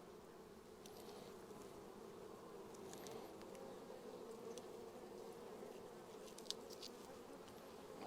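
Bees buzzing around an open hive at an apiary, a steady low droning hum from many insects with occasional closer individual buzzes passing by, faint overall and without talk.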